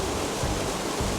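Steady, dense rush of water pouring over Penasquitos Creek Waterfall in San Diego, loud and close with no pauses or voices.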